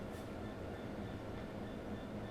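A train from the game Train Sim World 3 rolling along, a low steady rumble of running gear with a faint high whine above, continuous and even with no talk.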